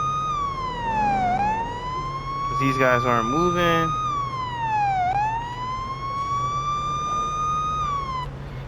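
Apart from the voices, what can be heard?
police car sirens in video game Police Simulator: Patrol Officers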